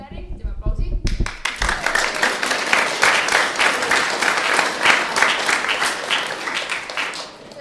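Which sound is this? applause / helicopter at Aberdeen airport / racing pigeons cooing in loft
applause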